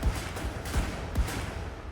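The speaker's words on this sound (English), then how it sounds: "Gunshots? People are still trying to kill each other?" Gunfire in the Attack on Titan anime: three distant, muffled shots thud at uneven intervals over a steady background rumble.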